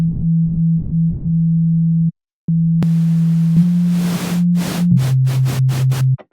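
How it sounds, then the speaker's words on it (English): A synthesizer oscillator plays a steady sine tone and is then crossfaded toward noise, with hissing bursts appearing over the tone as it steps down in pitch, then short pulsing noise hits near the end. "Between, in this case, a sine wave and the noise."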